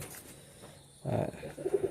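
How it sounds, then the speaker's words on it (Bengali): Pigeons cooing nearby, a couple of soft low throaty coos rising after a quiet start, faint and brief. "আমার এই কবুতরগুলো দেখতে পাচ্ছেন"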